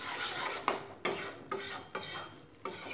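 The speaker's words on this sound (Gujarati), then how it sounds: "આવી રીતે ગોળની કણી હોય તો એને પ્રેસ કરી લઈશું જેથી કરીને ફટફટ ગોળ પીગળી" A metal spoon presses and scrapes jaggery lumps against a pan as they melt for sukhdi, with about five distinct clinking strokes, each followed by a short grating rasp, close and clear with no talking.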